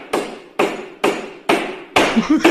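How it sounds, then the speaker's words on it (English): Heavy hammering leaks into a TV broadcast: five loud, evenly spaced blows about half a second apart, each a sharp strike with a short decay, the last ones followed by quicker rattling knocks. "Stop the hammering."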